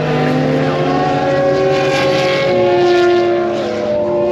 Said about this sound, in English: The 918 Spider.